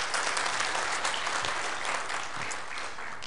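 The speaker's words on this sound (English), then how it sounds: "give him a big round of applause" Applause from a conference audience at a software development workshop, a dense steady wash of many hands clapping for a presenter, fairly near and continuous with no talk over it.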